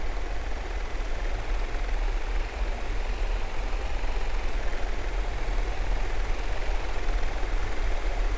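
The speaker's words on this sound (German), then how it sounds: "Drücken wir mal auf die 6 und starten die Drohne." A surveillance drone launching in the video game Ghost Recon Future Soldier gives a steady, loud rotor and engine drone that runs unchanged throughout, with no speech.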